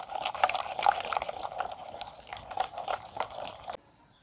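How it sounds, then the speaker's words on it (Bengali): Cauliflower and coriander pakora batter, with hot oil just added, being beaten by hand in a bowl, giving a steady wet slapping and squelching churn that runs without a break and then stops abruptly. "আবারও আমি খুব ভালোভাবে ফেটিয়ে নিচ্ছি"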